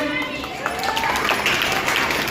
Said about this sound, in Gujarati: તાળી પાડો બધા